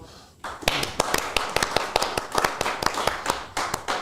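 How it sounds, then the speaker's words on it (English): A small group claps for someone who finished a marathon. The individual claps are close and distinct, landing in an uneven, scattered rhythm, with voices mixed in. "Can we give him a round of applause, everyone?"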